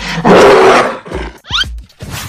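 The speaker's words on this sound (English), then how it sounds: "Green gorilla." A green cartoon gorilla gives a loud, close, rough roar lasting under a second, followed by thumps, a quick squeaky chirp and a few softer grunting bursts, with no speech.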